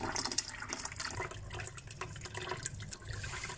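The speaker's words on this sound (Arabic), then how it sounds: "ننتظر ليمتلئ بالماء مرة أخرى" Water running into the tank of a hydroponic growing system, a soft continuous trickling and splashing fill heard quietly and alone.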